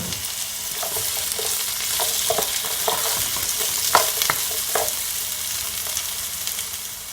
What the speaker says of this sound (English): Just gonna allow it to saute just for a couple of seconds.